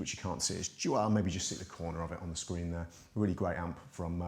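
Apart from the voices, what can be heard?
No everyday noises stand out.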